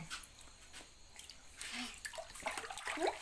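Water runs into a basin for a bath on a cold day, a soft continuous splashing and trickling that grows slightly louder toward the end, with a few brief drips and clinks on top.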